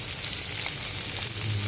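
Chopped onion frying in a pan for a home-cooked Kerala fish curry, a steady close hiss of sizzling oil running throughout with no voices.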